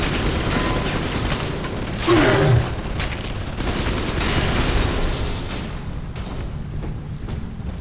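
A dense, rumbling explosion booms from the BioShock 2 game as a signal relay is destroyed, with a burst around the middle swelling over continuous loud mechanical and ambient game noise that fades toward the end.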